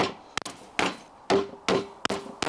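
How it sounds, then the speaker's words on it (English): A hammer whacks a scrap of pallet wood held against tongue-and-groove boards to close a crack, landing about six sharp, heavy knocks at uneven intervals, each ringing briefly, with no talking. "You see that I've actually got most of that big crack out by just hitting that with a hammer."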